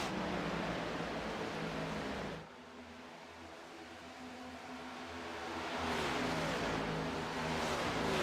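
Race cars in the iRacing sim at Daytona drone continuously at high engine revs, a dense pack roaring loudly, dipping briefly then swelling again as the field runs down on the pace car.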